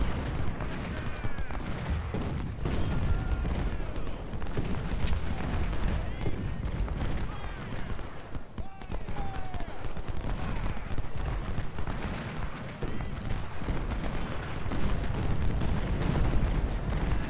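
Artillery guns fire in the Civil War strategy game Ultimate General: Civil War, with continuous rumbling booms and crackling gunfire forming a dense, steady battle din throughout.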